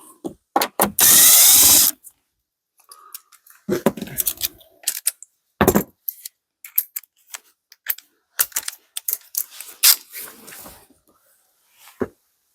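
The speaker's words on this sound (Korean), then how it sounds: "하단에 1 0 m m 볼트 두 개풀어주시고" Power drill unscrewing two 10 mm bolts on a 2026 Kia Carnival during a DIY light install, a loud close whirring burst followed by shorter intermittent bursts and scattered clicks and clatter of parts.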